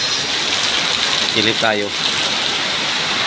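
Heavy rain and strong wind roar as a dense, constant hiss outside near a parking area, with a brief spoken phrase breaking in midway.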